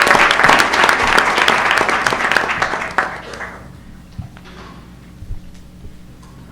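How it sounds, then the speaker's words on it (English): An audience at a Granville County school board meeting gives a loud round of applause for a students' concert; the clapping fades after about three seconds, leaving a few scattered claps in a quieter room. "let's give them all one big round of applause"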